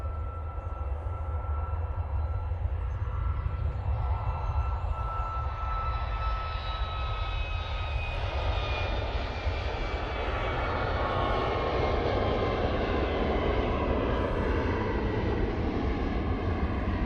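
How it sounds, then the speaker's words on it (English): A Ryanair Boeing 737 MAX 8 jet airliner roars past at Manchester Airport, a loud, sustained engine rumble with a whining tone that slowly shifts in pitch as the plane moves, lasting the whole stretch with no talking. "Ryanair 737 MAX 8 to Budapest now."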